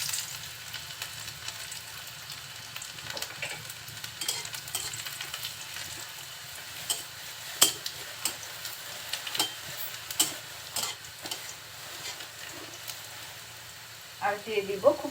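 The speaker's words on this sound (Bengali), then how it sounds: "একটু গরম হলে দিয়ে দিচ্ছি রসুন কুচি" Chopped garlic sizzles in a small amount of hot oil in a pan, giving a soft, steady hiss with light ticking pops and a few stirring clicks and a clatter near the end. A voice speaks faintly at times.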